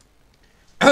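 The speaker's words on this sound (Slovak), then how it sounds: "A kašlem a tak, ale to nevadí." A single short cough, close and fairly loud, bursts out right at the end after near silence.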